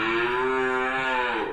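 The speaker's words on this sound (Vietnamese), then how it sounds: "Rồi trước mặt bà con là 4 con bò." A cow among a small group of fattening and breeding cattle at a Tra Vinh livestock trade lets out one long, loud, close moo that holds steady throughout.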